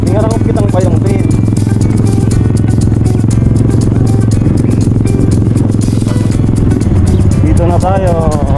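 A motorcycle engine runs loud and close throughout on a rough off-road track, with a steady rattling drone and some clatter, while voices talk over it.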